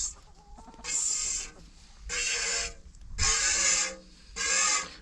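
Chickens on an off-grid homestead sound off in four loud bursts of clucking and squawking, separated by short quieter gaps, with no talking.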